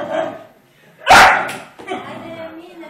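A dog gives one loud, close bark in the middle of Romanian speech, with voices talking before and after it.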